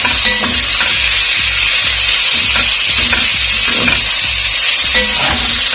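Ground beef, still on two big bones, frying for kheema in a pan, giving a loud steady sizzle and hiss with faint stirring scrapes underneath.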